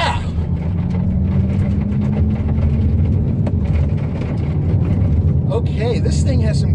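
A 2017 Hyundai Elantra Sport pulls away hard in a quick takeoff from about 5,000 RPM, its engine roar loud and close. Broadband tire and road noise comes from a rough side road, with a voice speaking over it.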